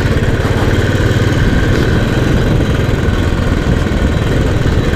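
A Royal Enfield Classic 350 engine thumps loud and close while riding, a steady, rapid low pulse with wind noise and no voices.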